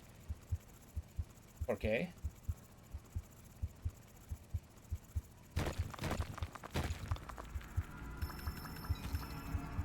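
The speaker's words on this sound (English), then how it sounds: "I'm hearing heartbeats." Steady low thumping heartbeat from the survival game Forever Skies pulses regularly through the whole stretch, joined midway by a louder rumbling burst and a brief spoken word.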